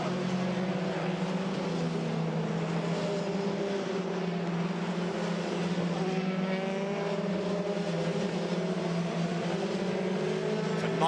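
FIA F3 European Championship race cars scream past on a circuit during the 2014 season, a continuous layered engine roar from several cars, steady and loud throughout, with no talk.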